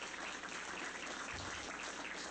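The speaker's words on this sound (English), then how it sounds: "round of applause for you guys" A quiet, distant-sounding round of applause from a tech meetup audience, a soft even patter of clapping lasting a couple of seconds with no talk over it.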